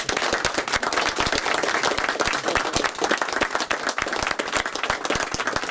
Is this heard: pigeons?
no